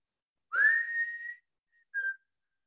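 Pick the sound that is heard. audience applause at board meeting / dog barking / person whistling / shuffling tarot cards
person whistling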